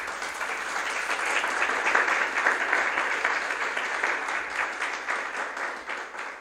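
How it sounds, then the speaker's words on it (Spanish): A church congregation applauds in praise of the Lord during a Spanish-language worship service, a steady, dense wash of clapping from many hands that holds evenly for several seconds. "Démosle un aplauso al Señor."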